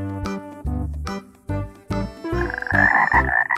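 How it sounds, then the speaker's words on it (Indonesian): A frog croaks loudly and close by, about eight rough, throaty calls in a quick uneven series, each one short and buzzing, with no voices. "ada katak teman-teman. Katak yang sangat keren."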